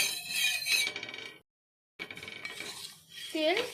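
White oil spread around a hot tawa griddle with a spatula, giving metallic scraping and clinking with a faint sizzle, close and loud, broken by a short silence before the scraping resumes.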